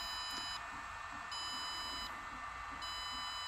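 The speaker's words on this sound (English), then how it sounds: "It just beeps when it's updating the firmware." Repeated high electronic beeps from a Walksnail Avatar video receiver updating its firmware, in an on-off pattern, each lasting under a second, over a steady hum of background noise.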